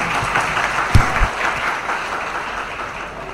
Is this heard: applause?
yes